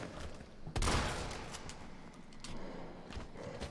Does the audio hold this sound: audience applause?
no